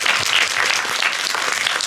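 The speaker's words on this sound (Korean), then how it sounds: "박수 부탁드리겠습니다" Audience applause fills a cinema during a post-screening Q&A for the action film 'Geomchiho' at the Busan Cinema Center: dense, steady clapping from a large crowd, loud and continuous throughout.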